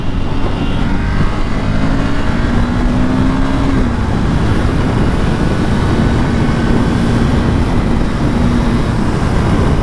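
A 2020 Ducati Monster 797+ motorcycle engine pulls under throttle while riding, a steady loud drone with a rising then dropping pitch swell, continuous wind and road roar throughout.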